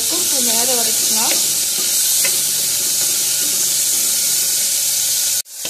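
Sliced onions sautéing in a pot until golden for a quick variety rice, a loud, close, steady sizzle with a few stirring clinks that cuts off abruptly near the end.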